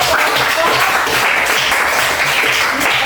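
Loud, close, continuous clapping from a group, a steady dense patter of hands with no pauses.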